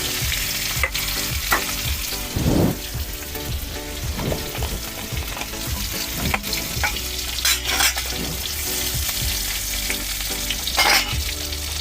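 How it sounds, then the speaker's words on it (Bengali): Puti fish and green chillies frying in hot oil, with a loud, steady sizzle and repeated scrapes and clatters of stirring throughout. "ওই তেলের মধ্যে কাঁচা লঙ্কাগুলো দিয়ে দিলাম মাছগুলো দিয়ে দিচ্ছি"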